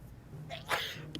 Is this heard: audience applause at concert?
no